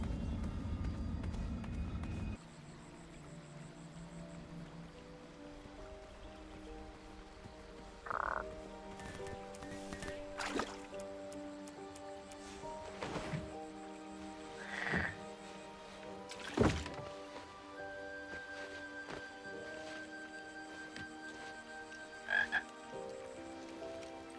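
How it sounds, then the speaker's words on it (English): Frog croaks from the King's Quest video game, chapter five, sound as a few separate throaty calls spaced several seconds apart against a soft layered game music bed, with occasional sharp thumps. "Yeah, definitely an allusion to the frog here."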